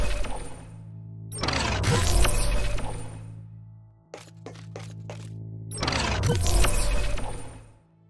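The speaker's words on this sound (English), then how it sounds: "This event will also trigger the spawn sound effect," A robot spawn effect from the Stack-O-Bot game, two bursts of bright shattering, crackling noise separated by a brief cluster of sharp clicks, loud and without talk.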